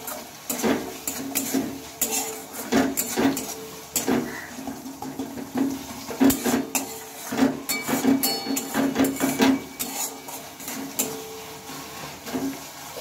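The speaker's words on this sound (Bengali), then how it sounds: "মশলাটা এখন কিছুক্ষণ নেড়ে চেড়ে ভালোভাবে কষিয়ে নেব" Spice paste (masala) with chilli powder being stirred and fried in a pan for a cabbage-stalk dish: repeated scraping and clattering strokes of a spoon against the pan over a steady sizzle, close and fairly loud, with no talking.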